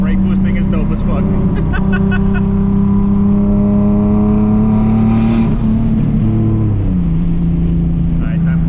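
A turbocharged Nissan 370Z brake boosts on a dyno, its engine droning loud and close at a held rev with a steady tone, then dipping and recovering near the end; a voice may talk over it.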